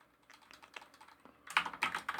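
Quick, uneven keystrokes clatter on a computer keyboard, light at first and then louder and denser, with no one speaking.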